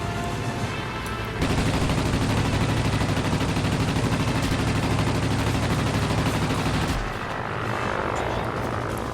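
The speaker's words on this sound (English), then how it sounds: "That's his tail gunner that's hitting me?" In a World of Warplanes air battle, an enemy biplane's tail gunner fires a sustained machine-gun burst that rattles for several seconds. Droning aircraft engine noise sits beneath it and carries on after the shooting stops.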